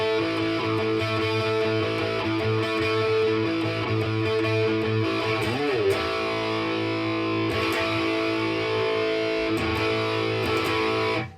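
Electric guitar with distortion plays the intro to a song in power chords, ringing continuously at moderate volume and steady throughout.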